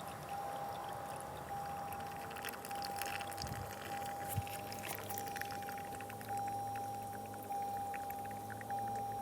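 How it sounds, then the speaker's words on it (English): A thin, steady trickle of water poured down a car's sunroof drain runs through the narrow channel, faint and continuous, with a constant hum in the background. "We're gonna be pouring water down it to see"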